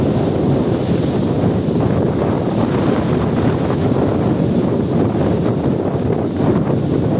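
Strong gusting wind and rough waves around a boat at sea with five-foot swells, a loud, continuous roaring rush with heavy wind buffeting on the microphone and no talking.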